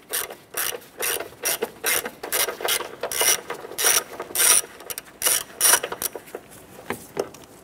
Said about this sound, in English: Using an 8mm socket and extension, we're going to go ahead and remove this bolt here.